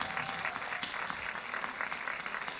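An audience at a summer festival gala in Piombino claps, a fairly faint but continuous patter of many hands, even in rhythm and sustained throughout without voices.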